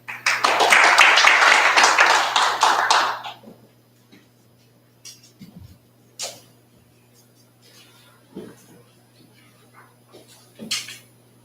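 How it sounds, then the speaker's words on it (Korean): An audience at the opening ceremony of a maritime and port academic conference gives a loud burst of applause for about three seconds, then it dies away into a quiet room with only a few faint knocks and shuffles. "큰 박수로 맞아주십시오"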